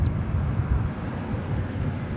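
An airplane taxiing at DFW Airport produces a low, steady engine rumble heard from a distance, with no clear peaks or changes.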